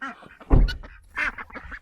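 Several farmyard ducks quack loudly and close by in a short, busy burst, with a guinea fowl also kept among the flock.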